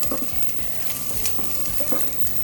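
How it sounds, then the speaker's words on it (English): Garlic frying in a pot at the start of a pumpkin soup, a steady close sizzle with a spoon stirring and scraping in soft repeated strokes throughout, no talking. "So next I'm going to add my garlic."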